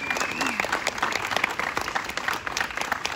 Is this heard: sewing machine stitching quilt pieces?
no